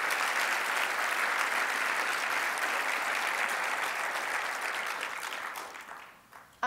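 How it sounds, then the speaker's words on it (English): Sustained audience applause from a crowd, steady and dense for several seconds before tapering off and fading near the end. "you guys should give a round of applause for you guys for Norton's"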